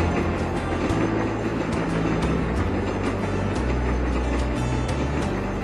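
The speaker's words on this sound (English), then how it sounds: "those trains, it's driving me crazy" Trains run continuously in the TrainStation2 video game, a steady loud rolling rumble with low droning tones that shift in pitch, no voices heard.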